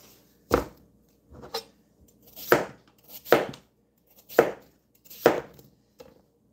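A knife chops through zucchini on a cutting board, about seven sharp, distinct strikes spaced roughly a second apart. The cuts are close and clear against an otherwise quiet kitchen.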